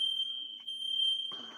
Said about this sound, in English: Uh-oh. Fire alarm. That's it. Evacuate.